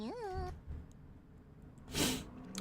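A cat girl mob in modded Minecraft gives a short, rising-and-falling meow at the start, followed by quiet gameplay sounds and a brief burst of noise.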